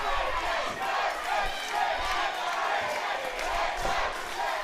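Wrestling crowd at a brawl roaring and chanting steadily throughout, a dense wall of voices with rhythmic surges, heard from the arena floor.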